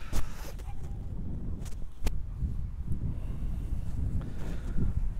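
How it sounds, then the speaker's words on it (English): Outdoor wind buffets the microphone in low, rumbling gusts that stay steady throughout, with a few sharp knocks and rustles of gear handled nearby. "the wind is not my friend now"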